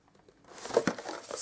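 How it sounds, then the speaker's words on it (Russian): An inflated latex balloon is twisted for balloon art, a brief close squeaky rubbery crinkling that builds over about a second. "Скрутим шарик."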